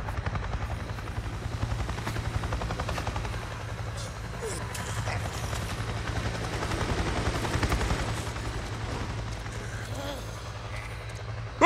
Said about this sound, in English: I just saw a chopper! A chopper? What are you talking about? A Nero chopper! It just buzzed right over me